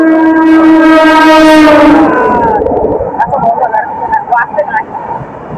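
A loud Mumbai local train horn blares for about two seconds, followed by the rumble and clatter of a train with a voice faintly in the mix.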